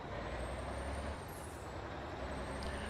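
Engine brake on a truck in American Truck Simulator, driving a back-country route in Canada; a continuous loud low rumble and roar that holds steady throughout, with a faint thin whine drifting above it.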